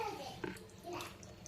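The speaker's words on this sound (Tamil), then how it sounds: "தண்ணி ஊற்றிக்கோங்க" Water is poured into rice flour batter for bun dosa in a home kitchen, a faint, brief trickle and splash with voices speaking in the background.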